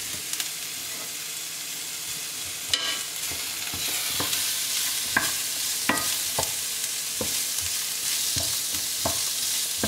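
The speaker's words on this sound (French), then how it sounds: "On va rajouter les lardons aux oignons." Chunky bacon lardons fry with onions in a pot, a continuous close sizzle broken by scattered scraping clicks of stirring, with no talking.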